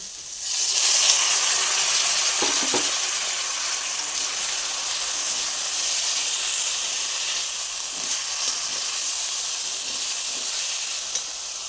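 Tomato spice masala sizzles and hisses steadily in a pan after a little water is added, with a few soft stirring knocks over the continuous close frying sound.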